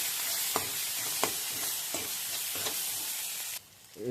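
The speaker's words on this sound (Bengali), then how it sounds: "আমরা একটু কড়া করে ভাজবো" Noodle-recipe ingredients frying with spices in a pan, a steady sizzle broken by regular scraping stirs about every half second, close up, before the sizzle drops off near the end.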